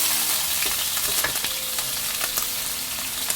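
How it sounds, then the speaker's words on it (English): About two medium sliced onions stir-frying in three to four tablespoons of hot oil for prawn biryani, a loud close sizzle broken by scraping and clicking stirring strokes. "Then I'm adding chopped onion."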